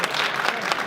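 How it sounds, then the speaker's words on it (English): Applause from an audience at a Denver community forum, a dense burst of many hands clapping that fills the room, loud and steady through the short moment. "If you're going to applaud, you need to stand up and really get after it."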